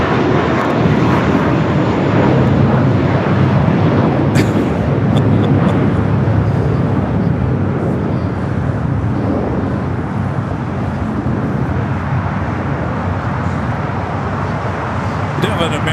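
An American Airlines Boeing 787 Dreamliner departing LAX bound for Miami, its jet engines a loud, steady roar that holds for the whole stretch and eases slightly toward the end, with a voice faintly audible over it.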